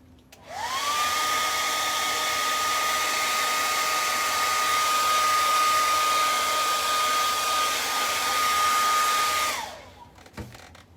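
A hair dryer blows steadily to dry white chalk paint on a suitcase, switching on with a rising whine, holding a loud even drone for about nine seconds, then shutting off with a few clunks.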